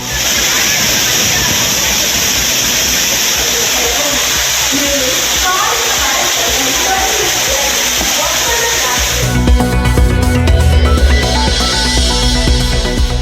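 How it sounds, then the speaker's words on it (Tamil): Courtallam waterfalls roar as a loud, steady rush of falling water with tourists bathing beneath, a dense continuous hiss with faint splashing that swells slightly near the end. "குற்றாலம் அருவிகளில் குளிப்பதற்கு விதிக்கப்பட்ட தடை நீக்கம் உற்சாகமாக குளித்து மகிழ்ந்த சுற்றுலா பயணிகள்"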